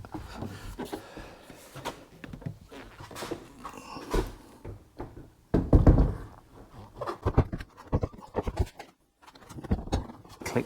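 Replacement door handle on a Vauxhall Zafira GSI clicking into place, a few sharp knocks and clacks of plastic and metal up close amid handling noises, with no one talking.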